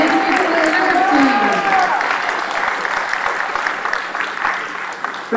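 Audience at a community think tank meeting applauding the leadership team, sustained clapping with crowd noise and cheering, steady and fairly loud throughout before gradually thinning toward the end.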